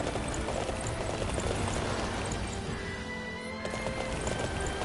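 A horse gallops in the video game Dynasty Warriors 9, a steady dense clatter of hooves with a whinny, holding at even loudness throughout amid busy game noise.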